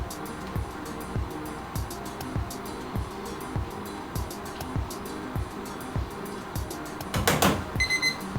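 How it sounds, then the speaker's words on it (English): A kitchen timer alarm goes off while chicken and mushroom pasta is being cooked, a fast run of bright beeps near the end after steady, rhythmic kitchen clatter and sizzle, with no talking. "there goes our timer"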